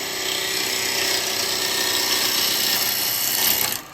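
Bowl gouge cutting into spinning wood on a woodturning lathe, a loud continuous close whine and scraping hiss that drops away abruptly at the end.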